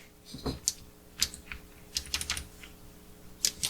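Keys pressed on a very simple homemade computer keyboard: scattered, close, sharp clicks, single taps and short quick clusters with small gaps, heard alone without talk.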